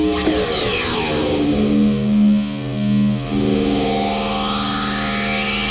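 A heavily distorted Korg ARP 2600 analog synthesizer patch drones with gritty overdrive, its tone sweeping and pulsing before settling into a sustained, buzzing chord.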